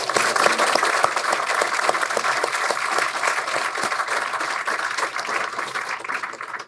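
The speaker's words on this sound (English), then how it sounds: "can we just give a round of applause?" Audience applause after project presentations at an Atrial Fibrillation Association event, a dense, sustained round of clapping at steady volume, no speech over it.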